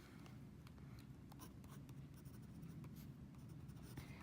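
A Visconti Florentine Hills fountain pen with a fine nib writes on paper, giving faint, soft scratchy strokes over a low steady background hum, with no talking.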